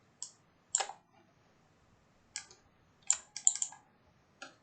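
Mouse clicks inside a quiet room during computer work in a data list editor: a few separate crisp clicks, some single and some in quick pairs or triplets, with short silences between them and no voices.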